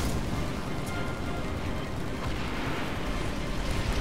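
Rocket explosions in Halo 3, a dense, continuous roar of blasts and rumbling booms that fills the whole stretch at high volume with no pauses.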